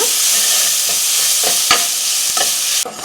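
Chopped tomato with turmeric frying in a hot pan for liver pepper fry, a loud continuous sizzle with a spatula scraping and stirring at intervals, no talking.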